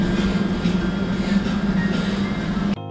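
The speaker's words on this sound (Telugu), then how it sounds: "మలేషియాలో మెట్రో ట్రైన్ కాకుండా ఇలా లోకల్ ట్రైన్లో కూడా ప్రయాణం చేయడం చాలా అమేజింగ్గా ఉండే" Inside a local commuter train in Kuala Lumpur, Malaysia, a steady loud rumble and droning hum roll on, then cut off abruptly just before the end.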